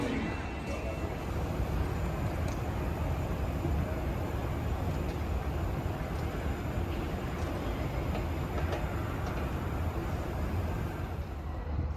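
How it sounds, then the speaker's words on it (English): Steady low rumble of a train in motion in Western Australia, loud and continuous throughout, with faint voices mixed into the background. "I'm about to catch the train back to the city"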